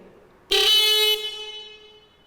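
Two vehicle horns wired through a relay circuit blare together loudly at once when the switch is pressed, holding a bright, steady tone for more than a second before fading.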